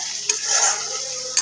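Masala of sour curd, turmeric and cumin powder frying in oil in a pan, with a steady close sizzle broken by two brief scraping stirs of a spoon.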